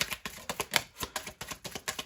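Rapid rhythmic riffling of tarot cards being shuffled, a steady run of crisp flutters repeating about four times a second, close up with no talking.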